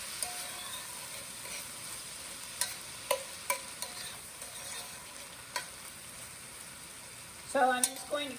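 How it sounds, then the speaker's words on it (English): Garlic and vegetables being stirred in a pan, a soft steady sizzle under a few sharp utensil scrapes and clicks against the pan, with a louder clatter near the end. "I'm just going to keep stirring for about 5 minutes because I want the vegetables to be soft and sort of translucent"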